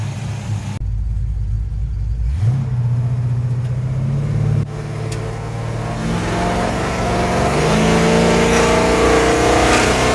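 A 1970 Pontiac LeMans with a 455 engine and MSD ignition accelerates on a road test drive, its deep rumble rising in pitch through a shift, loud and continuous from inside the car.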